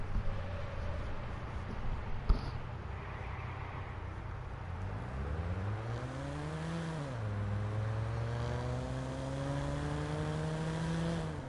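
A car engine in the video game Watch Dogs, likened to a Supra, revving up and shifting through rising gear sweeps, steady and fairly loud over a constant background drone with no talk.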